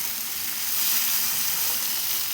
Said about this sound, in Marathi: ह्याला व्यवस्थित असं परतून घेऊ आपण ह्याच्यामध्ये